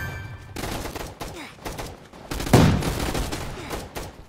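Machine gun fire in the Roblox game The Hunt, heard as bursts of clipped shots broken by gaps, with a louder stretch near the middle and no talk over it.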